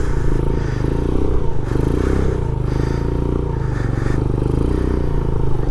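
A Grom-clone Vader 125cc motorcycle rides circles in first gear, its close, loud engine droning with rising and falling revs as the throttle is worked, and a scraping clatter underneath.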